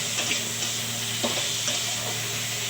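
Tomato sautés in a pan with fried snakehead fish, a soft steady sizzle with a few light stirring scrapes over a low hum.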